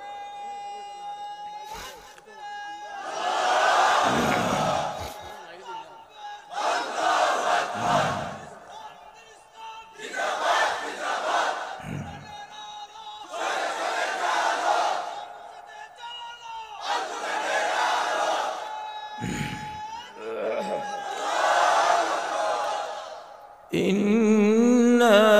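A crowd at a religious gathering chants the takbir "Allahu Akbar" in loud, repeated bursts, about six rising shouted waves spaced a few seconds apart, each answering a leader's call.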